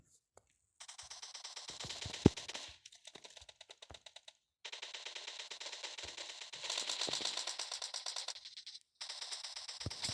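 Gunfire in PUBG Mobile, bursts of rapid automatic shots in several sustained strings with brief pauses, close and loud, with a player talking at times.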